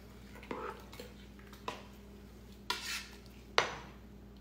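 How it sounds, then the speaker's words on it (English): Homemade pickle relish stirred in a pot on the stove: a spoon scrapes and knocks against the pot with several sharp clinks over a steady low background hum, close, with no talking. "I just put the rest of that in there and I'm going to stir it up good"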